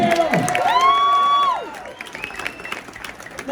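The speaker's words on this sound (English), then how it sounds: "one more big round of applause for some of the finest talents in the world" An audience at a Wayne Newton show at the Flamingo Hotel & Casino in Las Vegas applauds the musicians, a steady roar of clapping and cheers under a loud, drawn-out voice.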